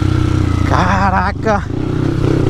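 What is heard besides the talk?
motorcycle riding on a heavy mud trail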